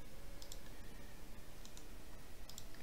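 A few light computer mouse clicks, spaced out and faint, over a constant hiss of background noise while working in ABAQUS software.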